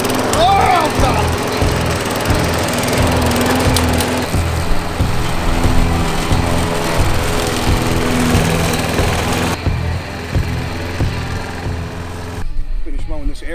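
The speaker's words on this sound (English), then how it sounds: "Finish mowing this area, and then I'm done." A petrol lawn mower runs steadily close by, cutting grass in hot summer weather in a garden. The engine drones throughout at a constant loud level, briefly easing near the end.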